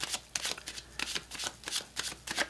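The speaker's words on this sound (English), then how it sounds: "as I'm shuffling these cards" Tarot cards being shuffled by hand, quick riffling bursts of papery flutter in an irregular rhythm, close and fairly quiet with no talking.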